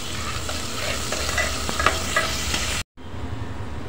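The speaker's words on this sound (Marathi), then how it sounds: "कांदा परतून घेऊया आपण।" Onion sautés in a pan with cumin seeds, giving a dense close sizzle with scraping stir strokes, then a brief cutoff before the frying hiss resumes.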